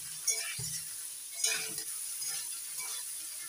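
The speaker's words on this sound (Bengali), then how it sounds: "পনিরগুলো ভেজে নিচ্ছি হালকা করে।" Salted paneer pieces fry lightly in a pan, giving a soft, faint sizzle with a few gentle utensil taps and scrapes, close with no talking.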